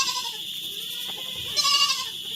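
A goat bleats in a farm setting, a steady bright bleat that swells louder near the end, heard alone without talk.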